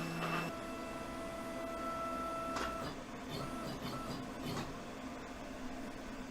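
A Crossfire PRO CNC plasma table doing a dry run with no cutting, giving a steady motor whine, brief tonal beeps and a few soft mechanical clicks and knocks from the moving gantry.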